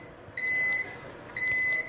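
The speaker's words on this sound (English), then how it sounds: "Yes, more beeps. The waffle is done." A VillaWare Belgian flip waffle maker gives two clear electronic beeps, each about half a second long, spaced roughly a second apart, heard alone with no talk.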